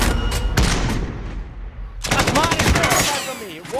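Rapid automatic gunfire rattles in a Warzone match on Verdansk, with a burst of shots, a short lull, then a denser volley of loud, close cracks with sharp in-game effects.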